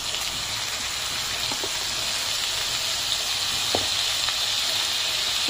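Masala paste frying in hot oil in a kadhai gives a constant, close sizzling hiss with a few faint clinks of a spoon, no voices.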